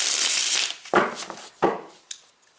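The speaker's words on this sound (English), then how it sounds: "let's give the cards a couple more shuffles." Tarot cards being shuffled by hand, a dense papery riffle at first, then a few separate soft slaps and flutters as the deck is squared, close and fairly quiet, no voice.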